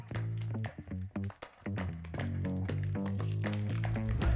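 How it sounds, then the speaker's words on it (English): Italian sausage frying in olive oil in a high-walled pan over medium-high heat, a soft steady sizzle with scattered pops beneath a faint tonal background. "Now we're only looking to cook the sausage about halfway for now."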